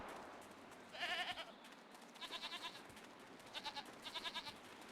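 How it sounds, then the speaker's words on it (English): Goats in the video game Jade Empire bleat quietly in a few short wavering bursts over a low ambient game backdrop, with no talking. "Goats!"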